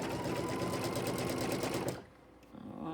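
A sewing machine stitches a flying geese quilt block in a fast, even rattling run for about two seconds, then stops, leaving quieter handling sounds.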